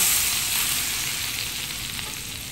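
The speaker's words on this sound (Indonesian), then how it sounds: "Panas-panas minyaknya kita tuang aja ke sambalnya." Hot frying oil left from cooking shrimp is poured onto sambal, giving a loud, close, continuous sizzle that slowly fades over a couple of seconds.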